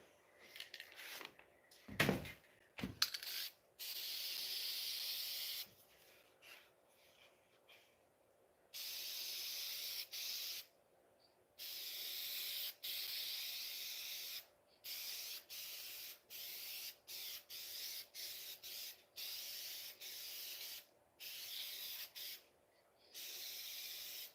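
Lacquer sprayed onto old barn wood in repeated hissing bursts of several seconds each with short gaps between, close and fairly quiet, with a few knocks near the start.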